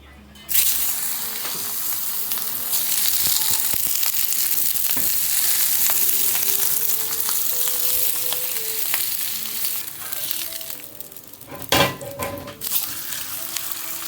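Meat searing in a hot pan with olive oil, butter, garlic and rosemary makes a loud, continuous hissing sizzle that holds steady, with a few utensil clinks and a burst of spattering near the end.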